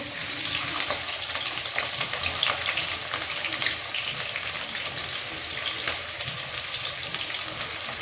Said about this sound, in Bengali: এবার আমি কাঁচা লঙ্কা চেরা দিয়ে দেবো, পেঁয়াজ কুচি দিয়ে দেবো